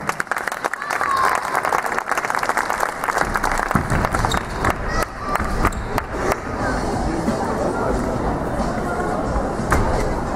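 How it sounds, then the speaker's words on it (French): Applause from an audience fills the space, a dense steady wash of clapping with scattered sharper claps, while a voice speaks over it near the start. "On les applaudit bien fort."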